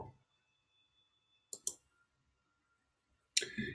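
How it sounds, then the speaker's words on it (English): Computer mouse buttons click sharply and close: one quick double click mid-clip, then another crisp click near the end, with silence in between. "Double click."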